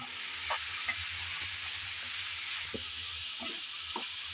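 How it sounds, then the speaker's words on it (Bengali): Kochur loti (taro stolons) fry in oil with a steady, soft sizzle, with quiet stirring scrapes and taps recurring every half second or so, no voices. "আমি প্রায় 3-4 মিনিট ধরে কচুরলতি তেলের মধ্যে হালকা করে ভেজে নিয়েছি।"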